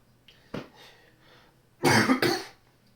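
Several raspy coughs from one person nearby: a short single cough, then a loud double cough burst, with quiet room tone between.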